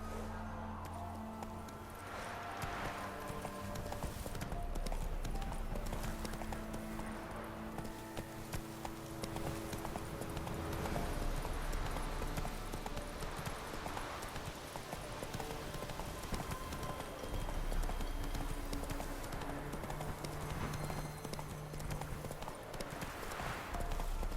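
The horse Roach gallops in The Witcher 3, its hooves clip-clopping in a steady rhythmic beat that carries on throughout over a soft ambient music bed, close and moderately loud.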